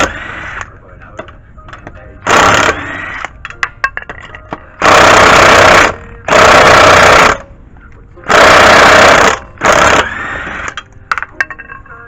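Ingersoll impact wrench breaking loose lug nuts on a 1998-1999 Toyota Sienna, firing in four loud, rattling bursts of about a second each, with one shorter burst before and after, and small clanks between.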